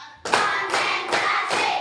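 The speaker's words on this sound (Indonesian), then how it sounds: "Tepuk 1, tepuk 2, tepuk 3, tepuk 4," An Indonesian elementary class claps together in a counted rhythm before a math lesson: four strong, evenly spaced group claps, each ringing briefly, with children's voices chanting along.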